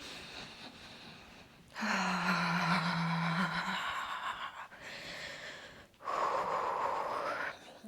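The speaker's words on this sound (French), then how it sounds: "encore une petite respiration ici" Deep, audible breaths taken during a flowing yoga practice: a few long inhales and exhales, one with a low voiced sigh, close and fairly loud with short quiet gaps between them.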